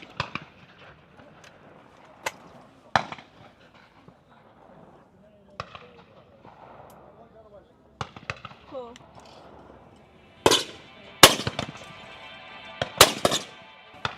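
Shotgun shots at clay pigeon targets at an outdoor shooting show ring out as scattered sharp cracks, clustering into a loud run of shots toward the end, with people talking quietly between them.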